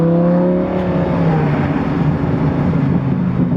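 A Lamborghini V10 engine rumbles steadily from inside the cabin, its revs dropping slightly before holding a deep, continuous growl with road noise underneath.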